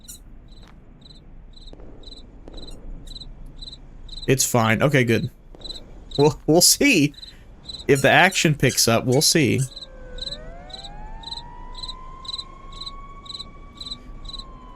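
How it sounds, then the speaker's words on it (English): Crickets chirp in a steady pulsing rhythm inside an indie horror video game, a constant ambient layer that continues beneath someone talking in several bursts, with a rising electronic tone near the end. "Listen to those crickets."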